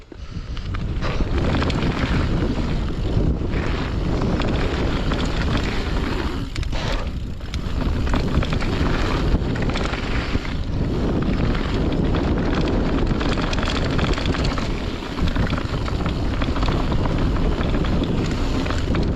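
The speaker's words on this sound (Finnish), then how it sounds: "Hirveä tuuli" Strong, steady wind roars and buffets the microphone throughout, loud and continuous with only a brief dip midway, at a bike park.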